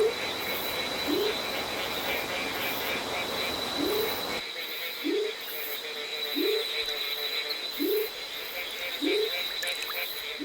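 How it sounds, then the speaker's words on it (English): Repeated rising tree frog calls at a regular pace beside Central American rainforest pools, over a dense night chorus of insects and distant frogs, roughly one call every second or so. "Tree frogs, from as small as a broad bean to as big as an avocado, gather around the pools to spawn."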